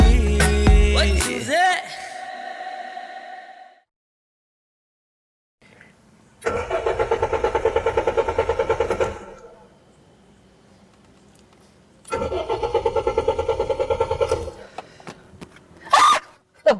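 A car engine is cranked and started twice, each attempt a near, loud whirring turnover lasting a few seconds, separated by quiet, with brief other sounds at the start and end.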